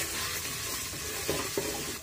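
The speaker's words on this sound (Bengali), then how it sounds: "পেঁয়াজ যখন হালকা বাদামি হয়ে আসছে, এখন এর মধ্যে একে একে দিয়ে দেব আদা বাটা, দিয়ে দেব রসুন বাটা" Onion frying with ginger paste and garlic paste added: a continuous moderate sizzle with a couple of soft clinks from a utensil late on, close by, with no talking.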